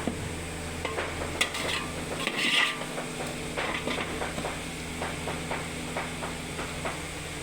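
Onions for chicken biryani fry and are stirred in a pan, a soft steady sizzle broken by scraping strokes and occasional clinks of the spoon against the vessel, close and moderate in volume.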